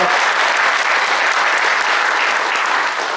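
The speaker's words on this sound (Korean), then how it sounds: "다시 한번 큰 박수 좀 부탁드리겠습니다" A big round of applause from an audience at a live urban and cultural regeneration event, thick steady clapping that stays loud and unbroken throughout.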